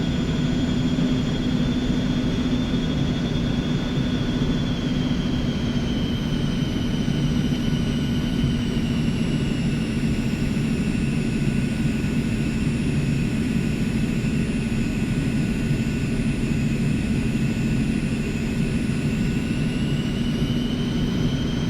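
Steady, continuous whine and roar of the twin jet engines on a small Eclipse 550 aircraft in the X-Plane 11 flight simulator, a constant drone with a high tonal whistle, loud and unbroken with no talk.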